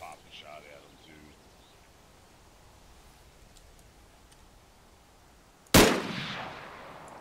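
A single sharp, loud video game gunshot cracks near the end after quiet ambient hiss, with a short decaying tail; faint talk earlier.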